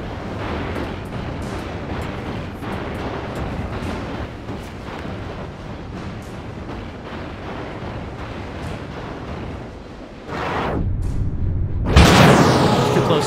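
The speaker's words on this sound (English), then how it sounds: "Fight back by creating explosions." Explosions roar in the video game Alone in the Dark (2008), a sustained dense rumbling blast noise, a brief dip, then a louder sharp burst near the end.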